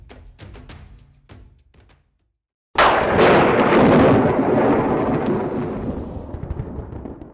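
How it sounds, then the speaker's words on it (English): Castle Thunder, the thunderclap effect recorded in 1931 for Frankenstein during a rainstorm: a sudden huge crack that rolls into a long, rumbling decay, preceded by a few faint unrelated tones and a moment of silence. "Castle Thunder is one of those. Originally recorded in 1931 for Frankenstein, this loud thunderclap during a rainstorm"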